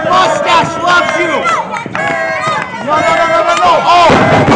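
A crowd at a House of Warrior Wrestling match roars and yells in bursts of loud, close shouting, with voices overlapping and a brief dip in the middle.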